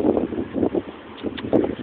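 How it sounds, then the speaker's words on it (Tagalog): Strong gusty wind in Qatar during a sandstorm, buffeting the microphone in loud bursts with brief lulls between. "mahangin."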